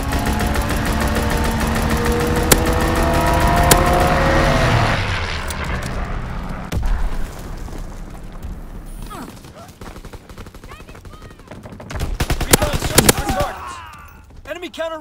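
A fighter plane strafes the ground in the Call of Duty WWII video game, with a loud engine roar and dense rapid gunfire, then scattered bursts and explosions.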